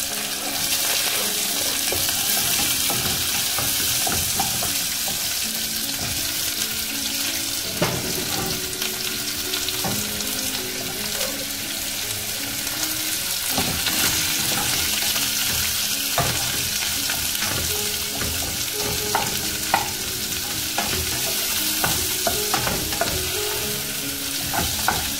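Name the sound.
sautéing onion, ginger and garlic in a pan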